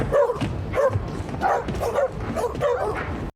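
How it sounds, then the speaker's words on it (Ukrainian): Several dogs bark and yip in the background in repeated bursts across the clip, mixed with voices. "Чому на фоні гавкають собак?"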